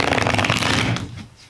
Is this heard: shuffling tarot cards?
yes